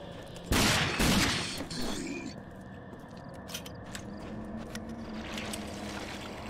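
Gunfire in the shooter game Rage, two loud blasts early on, then quieter scattered clicks and clatter over a low ambient hum.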